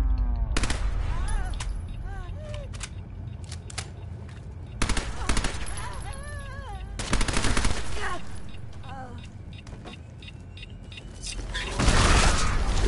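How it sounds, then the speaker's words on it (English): Mole mines exploding one after another in Fallout 4, several sharp, crackling blasts with rumbling tails spaced a few seconds apart, while a player talks between the bursts. "these are like exploding mole things, man. Yeah, mole bombs going on here"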